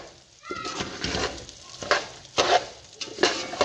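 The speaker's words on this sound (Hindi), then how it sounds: "हमने दलिया को फ्राई कर लेना है" A kilo of wheat porridge (daliya) roasting in a pan, stirred in repeated scraping strokes about every half second over a soft sizzle, close and fairly loud, with no one talking.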